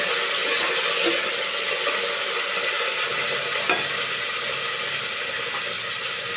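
Onions, green chilies, mint and coriander frying in a pan for egg biryani, a steady loud sizzle with occasional stirring scrapes throughout, no talk.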